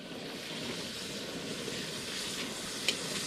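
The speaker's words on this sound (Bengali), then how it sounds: "তেল ঢাললাম কড়ায়, পাঁপড় ভাজা হবে" Papad frying in hot oil in a wok at an outdoor picnic in Uluberia, Howrah, giving a steady close sizzle and hiss that runs through the whole stretch without a break.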